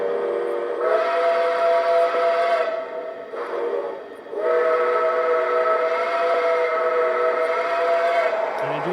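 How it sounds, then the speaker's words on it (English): A Lionel model steam locomotive sounds its Berkshire-style whistle in two long, multi-toned blasts with a short break between, loud and close, with a faint voice near the end. "it's the Berkshire whistle as it's nicknamed"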